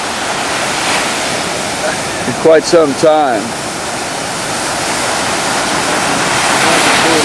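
Surf at Sumbawa: a steady broad roar of ocean waves breaking and washing, continuous throughout and swelling slightly toward the end, with a short burst of nearby talk in the middle.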